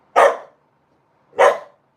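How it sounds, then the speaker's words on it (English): Two sharp dog barks, about a second apart, loud and close, with silence between them. "You're barking."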